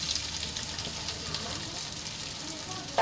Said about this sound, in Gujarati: અને તેલમાં થોડી વાર માટે સાંતળી લઈશું.